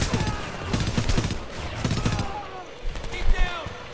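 Pistol gunfire in the video game Homefront comes in quick irregular bursts of close, loud shots mixed with other battle noise and echoing cracks, and a voice speaks over it in places.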